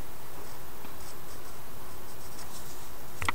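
Markers scratching quickly across paper in fast coloring strokes, a faint, soft, continuous scribbling close by with no voices.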